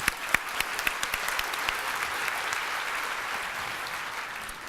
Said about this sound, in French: On applaudit François, s'il vous plaît.